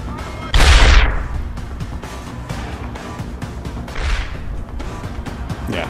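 Two loud, close blasts from grenades in a Deus Ex Human Revolution firefight, the first around half a second in and the second near four seconds, each followed by a decaying rumble, with a smaller pop at the end.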